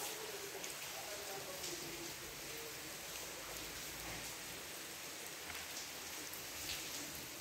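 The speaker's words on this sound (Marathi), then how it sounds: "पाऊस चालू आहे." Steady rain pours over a college campus in Washi, Maharashtra, a soft even hiss of drops on lawns and buildings that runs unbroken throughout, with faint distant voices beneath.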